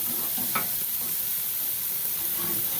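Burgers sizzle on an outdoor grill in cold, snowy weather, a loud, dense, unbroken hiss close by with a faint brief crackle, no talking.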